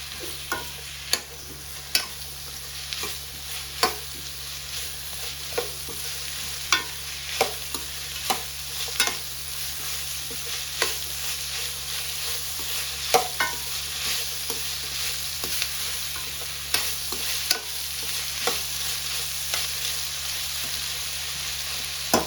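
Chicken curry spices with garam masala sauté on a low flame, a soft continuous sizzle punctuated by regular sharp scrapes and taps of a stirring spoon against the pan.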